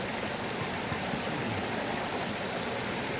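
Water flowing steadily over a small weir in a stream, a continuous broadband rushing and gurgling that holds even and fairly close throughout.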